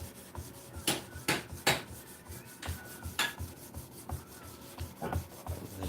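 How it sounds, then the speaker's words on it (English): A wooden piece being sanded by hand, with uneven bursts of rasping friction strokes, some sharp and louder, others soft, repeating irregularly at close range with no talk. "I'm gonna start sanding that other one"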